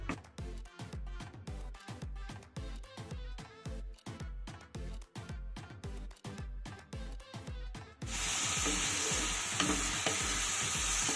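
A spice paste with ground masala and a little water is stirred in a pan over medium heat, with rhythmic scraping strokes for about eight seconds, then a loud steady sizzle.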